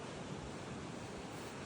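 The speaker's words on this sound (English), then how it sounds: "The waves are a good size." Waves and strong wind on a Michigan lake shore by a lighthouse: a steady, broad rush of surf and gusts, fairly quiet and continuous, with no voices.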